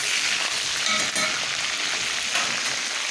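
Meat sautéing in a pan gives a loud, steady crackling sizzle that fills the whole few seconds, with no voices over it.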